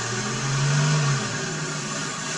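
A car engine with electronic throttle control revs up as the gas pedal is pressed and then eases back. The steady hum swells briefly, then settles back to a whirring idle, close and fairly quiet.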